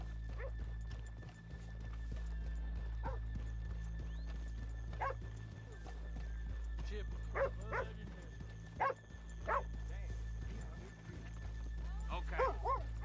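Horse hooves clip-clopping in Red Dead Redemption 2: a steady clatter of hoofbeats over a low constant hum, with a dog barking and a horse whinnying intermittently, and people talking faintly underneath.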